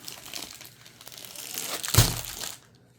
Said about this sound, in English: I keep all my original packaging, so try not to rip anything.